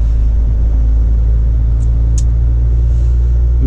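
Cars queuing in traffic near a McDonald's drive-through, a steady low rumble of idling and slowly moving engines that holds constant throughout, with a couple of brief higher squeaks and no talking.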